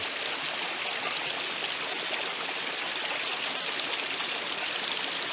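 A forest stream flows steadily and evenly at close range, a continuous rushing babble of water with no voices over it.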